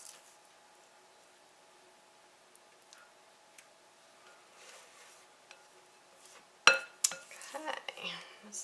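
A spoon scrapes and taps pumpkin muffin batter into muffin cups in a home kitchen, faint quiet handling at first, then sharper clinks of metal on the tin near the end.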